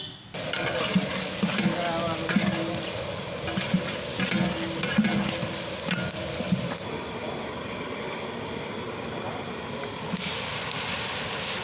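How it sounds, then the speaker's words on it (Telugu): Urad dal, peanuts and green chillies fry in hot oil in a pan, a busy crackling sizzle with scraping stirs that later settles into a steadier hiss, close and fairly loud. "మినపప్పు పల్లీలు పచ్చిమిర్చి అయితే యాడ్ చేసుకొని ఇలా ఆయిల్లో అయితే మంచిగా వేయించుకోవాలి"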